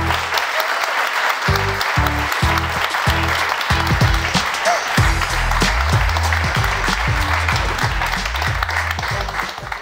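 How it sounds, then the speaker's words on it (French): A live audience gives a welcoming round of applause for a guest artist at an event in Mulhouse, steady, dense clapping filling the hall throughout, with a few voices and cheers mixed in. "On va juste l'accueillir par de gros applaudissements"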